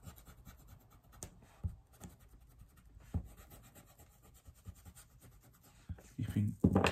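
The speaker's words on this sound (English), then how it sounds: "if I erase these initial guidelines of that square" A pencil eraser rubs over paper to remove guidelines, giving faint scattered scratches and brushing strokes, quiet and close, with louder handling knocks near the end.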